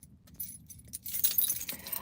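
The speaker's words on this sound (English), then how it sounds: "I still can't find these keys." A bunch of keys jangles and rattles in short bursts, close by and fairly quiet, growing busier and brighter toward the end.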